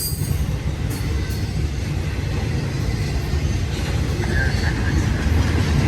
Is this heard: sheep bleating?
no